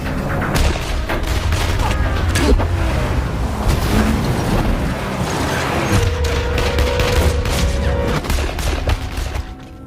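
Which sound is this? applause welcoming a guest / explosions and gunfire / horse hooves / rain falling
explosions and gunfire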